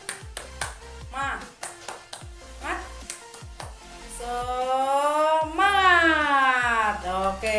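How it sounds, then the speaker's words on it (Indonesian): Schoolchildren in a classroom perform a 'tepuk semangat' clapping chant: sharp, rhythmic group claps in patterned bursts, followed by the children's voices chanting loudly together at the end. "Tepuk semangat"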